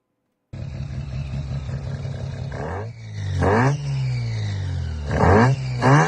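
A car fitted with a 12A rotary engine making about 200 horsepower idles with a steady buzzing drone, then revs up sharply twice in rising blips that fall back, loud and close.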